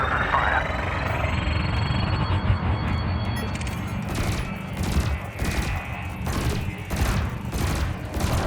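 Ship weapons in Elite Dangerous fire on a target drone, a string of regular sharp bursts over a steady engine hum in the second half of the clip.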